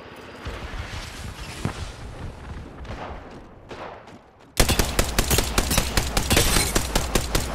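LMG fire in Apex Legends: after a stretch of quieter in-game movement and scattered shots, a loud, rapid stream of rounds hammers out in a steady rhythm, close and without speech.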